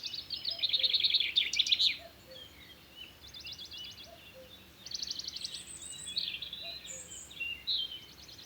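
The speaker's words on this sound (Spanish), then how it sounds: "podemos escuchar los pájaros que emiten un sonido que tiene un inicio y tiene un fin" Several birds chirp and sing in short, high phrases with pauses between them, fairly faint against a quiet outdoor background.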